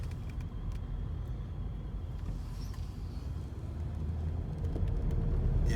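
A Mercedes 500SL accelerates from inside the cabin, a steady low engine and road rumble that builds slightly toward the end, with no voices over it.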